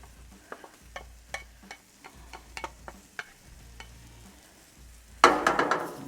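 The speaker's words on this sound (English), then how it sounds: "Go ahead and give that a good mix." Bread mix being stirred with poured-in liquids and vegetables for a Thanksgiving meal on a Blackstone griddle: repeated soft scraping strokes at a steady rhythm, then a louder, denser burst of wet mixing toward the end, close and with no talk.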